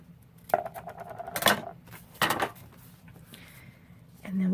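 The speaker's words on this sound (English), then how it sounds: "So let's cut that right here." Scissors cut paper for a retro Santa papercraft flip-out card, a few sharp separate snips and paper rustles spaced out with quiet gaps in between.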